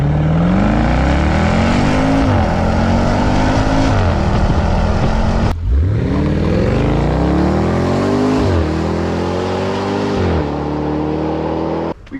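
A Land Rover Defender V8 fitted with a QuickSilver exhaust with carbon tailpipes and a transverse silencer rumbles and revs loudly up close, several rising throttle blips and a sharp break midway, with no talk.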